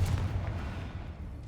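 A Confringo blasting spell in Hogwarts Legacy lands with a deep, rumbling boom at the start, followed by a low, fading roll of thunderous echoes.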